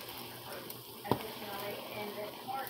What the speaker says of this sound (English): you fry it for 2 to 4 minutes